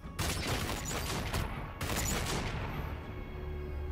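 A rapid fusillade of gunfire in Call of Duty: Infinite Warfare, two dense loud bursts separated by a short gap, then fading into a quieter game backdrop.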